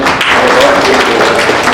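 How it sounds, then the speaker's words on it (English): A live audience claps for someone speaker's parents at a talk on the Bhagavad Gita: dense, steady applause filling the hall, loud and continuous, with voices mixed in. "I think we should give a big round of applause to their parents."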